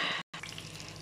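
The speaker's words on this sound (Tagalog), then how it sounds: "ayan na ang aking piniprito na salmon." A brief, steady sizzling hiss of salmon frying in a pan, broken by a short gap.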